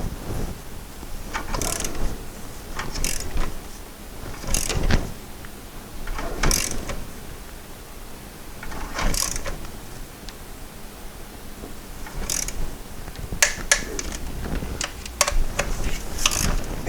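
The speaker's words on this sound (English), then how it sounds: "Happen to have an inch-pound torque wrench." Inch-pound torque wrench tightening the valve cover bolts on a VW Cabriolet engine, with scattered sharp clicks and ratcheting ticks spaced apart over soft background noise, fairly quiet and close.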